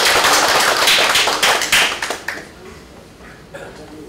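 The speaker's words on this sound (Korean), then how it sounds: "다시 한번 큰 박수 부탁드리겠습니다" An audience at a clan association's annual general meeting applauds loudly for about two seconds, the clapping then thinning into a few scattered claps and fading, with faint talk beneath.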